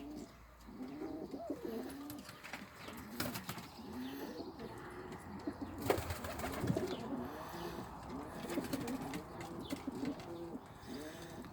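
Many pigeons coo continuously in soft, overlapping warbling calls, with occasional wing flaps and rustling nearby, in an enclosed space.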